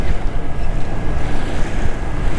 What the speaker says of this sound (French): Mais forcément bateau à moteur, parce que là, il n'y a pas plus de vent du tout.